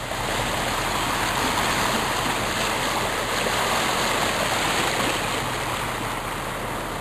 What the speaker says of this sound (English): Water goes in and water comes out.